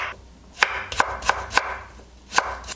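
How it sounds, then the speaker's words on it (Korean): A knife cuts a carrot on the bias on a cutting board, giving five or six crisp, close chopping knocks at an uneven pace with quiet pauses in between. "당근 옆으로 이렇게 어슷썰기 하듯이 옆으로 이렇게 썰어주세요."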